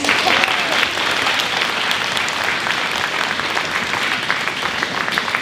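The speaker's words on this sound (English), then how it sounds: "Give her a round of applause." An audience at a middle school band concert applauds steadily with dense, even clapping that holds at a loud level throughout, with no voices standing out.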